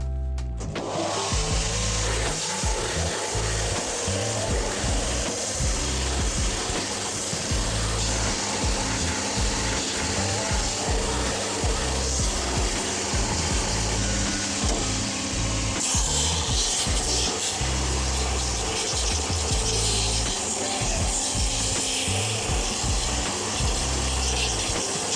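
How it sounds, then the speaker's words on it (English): A sanding machine grinds away old stitching from the soles of Loake leather shoes with a loud, continuous abrasive rasp and rumble that holds steady for the whole stretch, with no speech. "We're going to take that to the sanding machine, burst all those old stitches and get this peeled off in one nice piece."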